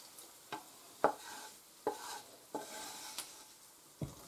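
Fried onions lifted out of hot oil with a utensil, a few sharp scrapes and clinks spaced across a quiet background with faint sizzle, close and moderately loud.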